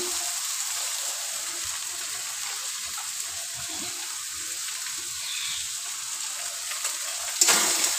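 Ground cumin and turmeric frying in oil in a pan for a potol dorma: a steady, bright hiss and sizzle throughout, with a louder spatter and clatter of stirring near the end, no talking.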